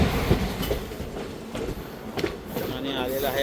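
Konkan Railway passenger train running on the tracks, a steady rumbling rolling noise with faint rhythmic wheel clicks, heard from on board with voices talking over it.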